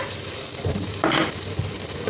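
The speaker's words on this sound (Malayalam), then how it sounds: "ജിഞ്ചർ ഗാർലിക് പേസ്റ്റ് എല്ലാം കൂടി നല്ല രീതിയിൽ വഴറ്റുന്നു" Onion, ginger garlic paste and ground spices sauté in a pan with a brief, close sizzle that flares loudly for a moment as the mixture is stirred.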